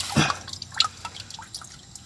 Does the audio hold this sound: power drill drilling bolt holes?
no